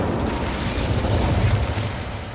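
The Incendio fire spell cast in Hogwarts Legacy, a loud, roaring whoosh of flame with a crackling, booming body that swells midway and tapers off, with no speech over it.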